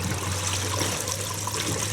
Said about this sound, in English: So that is the gray water coming out of the black tank with just a very little residue.